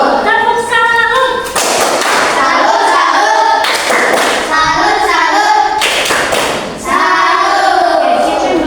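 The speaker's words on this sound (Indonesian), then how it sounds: "Tepuk salut." A classroom of children does the 'tepuk salut' rhythmic clap, loud patterned bursts of hand claps and slaps repeating in sections, with children's voices chanting along.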